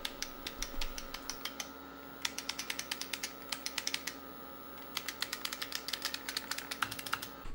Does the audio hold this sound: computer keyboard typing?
yes